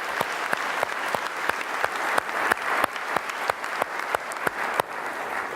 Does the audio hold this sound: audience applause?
yes